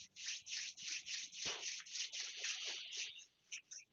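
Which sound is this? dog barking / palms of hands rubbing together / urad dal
palms of hands rubbing together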